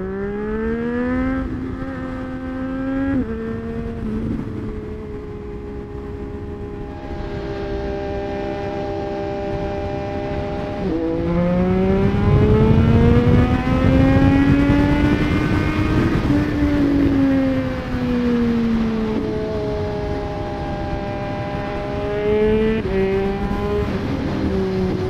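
A Triumph Street Triple RS motorcycle's engine accelerates hard, its whine climbing through gears with rising and falling pitch and a sustained loud roar, heard from the rider's position with wind noise throughout.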